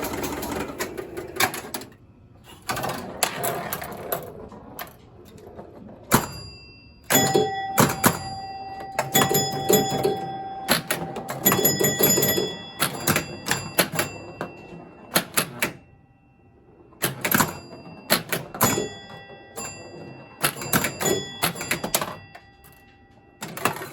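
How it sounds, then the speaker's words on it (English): A 1966 Williams A Go Go pinball machine plays with its roulette wheel spinning, giving bursts of mechanical clatter, chimes, thunks and ringing bell tones in uneven clusters, loud and close, with brief pauses between flurries. "Roulette wheel spinning."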